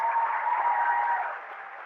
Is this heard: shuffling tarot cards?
no